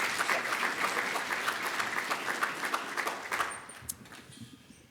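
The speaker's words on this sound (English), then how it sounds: "Give him a round of applause" Seminar audience clapping as the CEO and founder of Boost Up takes the stage, sustained applause that thins and fades out over the last second.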